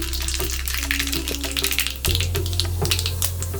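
Loud, dense sizzling and crackling of mustard seeds and cumin in hot oil fills the clip, with a steady low hum underneath and no speech.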